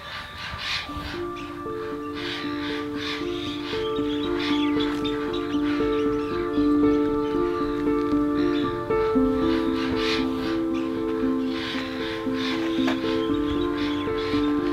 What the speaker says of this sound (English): Sun's just come up, birds tweeting, twerping